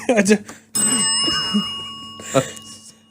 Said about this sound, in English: Where's your bell? Ring your fucking bell.